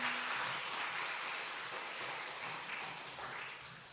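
A church congregation claps during a Sunday afternoon service, a continuous, moderately loud wash of applause from the room lasting a few seconds without pause.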